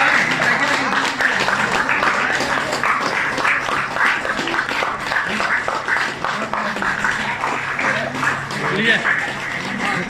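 An audience claps at a father's farewell honour ceremony, a moderate patter of hands running for several seconds while a voice talks over it.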